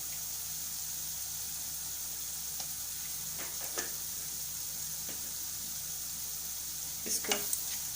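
Red chili, turmeric and cumin powder roasting in oil for Banjara dal gives a steady, even sizzle, with a few faint clicks of stirring near the end.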